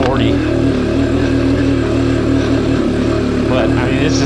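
Sherco TY125 trial motorcycle engine bogged down and chugging uphill in second gear, a steady continuous low drone throughout, close and loud with no break.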